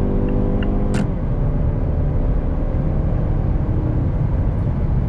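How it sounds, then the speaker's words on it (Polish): A Mazda CX-5 (second generation) engine roars under hard acceleration from highway speed with the pedal floored, a loud sustained low rumble heard from inside the cabin, with a brief click near the start. "Nieźle głośny jest ten samochód, a właściwie ten silnik na wyższych obrotach"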